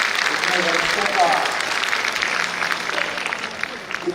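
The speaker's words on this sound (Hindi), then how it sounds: "एक बार जोरदार तालियां" Loud, sustained applause from an audience at a political event held on the birth anniversary of Atal Bihari Vajpayee, a dense continuous clapping wash lasting the whole stretch with a murmur of crowd underneath.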